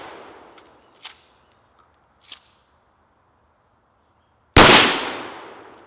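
A Mossberg Shockwave shotgun fires a single loud, sharp blast of 00 buckshot at close range with a decaying boom, preceded by a couple of faint clicks and handling noises.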